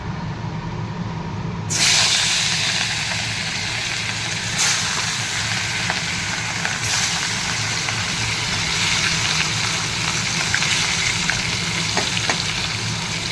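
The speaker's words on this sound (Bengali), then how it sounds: "এবার মাছগুলো ভেজে নিই। তেলটা এখানে গরম হয়ে গেছে।" Turmeric-and-salt-rubbed fish frying in hot oil, a loud, steady, close sizzle that swells as pieces drop in around two seconds, then hisses on continuously with occasional spatters and no talk.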